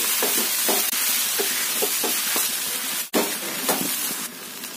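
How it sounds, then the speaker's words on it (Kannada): Field beans (avarekai) fry in a pan over a high flame with a loud, continuous sizzle, broken by repeated soft scraping stirs and one sharp clack near the end. "ಈಗ ಇದನ್ನ ಚೆನ್ನಾಗಿ ಫ್ರೈ ಮಾಡ್ಕೋಬೇಕಾಗತ್ತೆ, ಒಂದಕ್ಕೊಂದು ಹೊಂದ್ಕೊಳ್ಳೋ ರೀತಿ"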